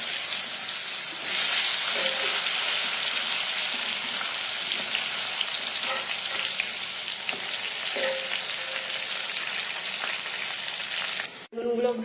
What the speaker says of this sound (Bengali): এগুলো আবার ছাকাতে বেগুনগুলোকে ভাজবো।